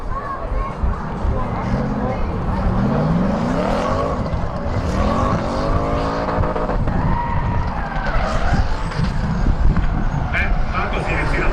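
Drift car sliding through a run at a Croatian drift competition qualifying round, engine roaring with tire squeal and skid noise, loud and continuous, with a commentator talking over it throughout.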